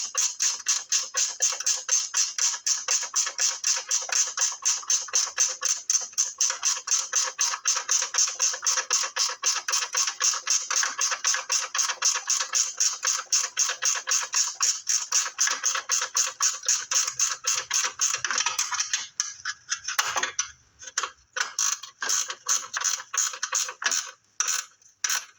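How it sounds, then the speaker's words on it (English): Rapid, steady ratchet wrench clicking while a car battery bolt on a Chevrolet Equinox is tightened, loud and close and continuing for about twenty seconds before breaking into a few slower, separate turns near the end. "I used a ratchet wrench, so this is a whole lot faster than using a regular wrench."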